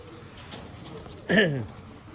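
A red-eyed Sialkoti pigeon coos once, a short throaty burst rising out of a quiet, low background murmur near the end.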